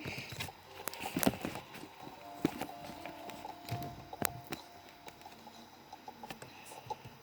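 Light clip-clop hoofbeats patter irregularly at a quiet level, with scattered clicks and faint tonal game sounds in the background.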